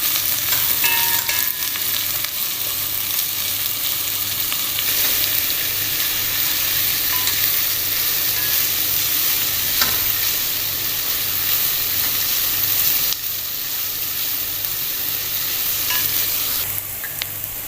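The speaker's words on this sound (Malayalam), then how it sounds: "ഇനി സവാള ഇട്ടിട്ട് നന്നായി വഴറ്റാം" Three medium sliced onions sauté in a pan for chicken 65 biryani, with a steady close sizzle and hiss and occasional stirring scrapes throughout, no talking.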